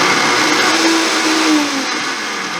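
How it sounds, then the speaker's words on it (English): Vitamix blender fitted with a small baby food container, its powerful motor running in a loud, steady high whine close by, with a slight drop in pitch partway through. "I have this baby food, well, I don't know if it's called a baby food attachment for my Vitamix here, and this thing will go"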